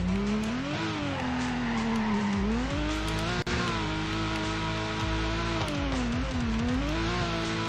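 Car drifting in the Android racing game TorqueDrift: a loud, steady engine drone rising and falling in pitch with mixed-in tire squeal, continuous for several seconds without speech.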